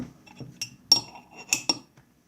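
A spoon stirring tea in a glass, several bright clinks in a quick uneven series, close and clear against near silence.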